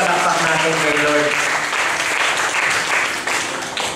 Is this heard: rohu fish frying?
no